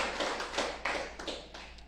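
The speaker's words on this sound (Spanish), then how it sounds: "Eso merece un aplauso, hermano." Applause from a congregation in a synagogue: steady, faint clapping from a small group with soft rhythmic pulses and a low hum underneath.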